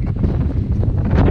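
Strong wind buffets the microphone on a mountain top at Stavnes fjeld, a brief, loud, low rumbling gust with no voices.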